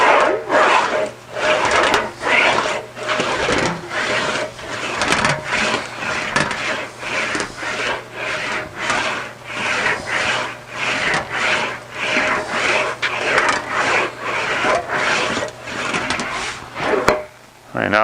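An English wheel rolling a sheet metal panel back and forth in a shop, giving a rhythmic, rasping rolling sound in regular strokes of about a second each, steady and close, with no talk over it.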